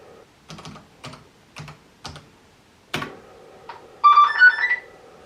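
Computer keyboard keys pressed in short clustered bursts while playing an old DOS attack Tetris clone, a few quick clicks at a time, followed by a sharper knock and a brief electronic tone, with no talking.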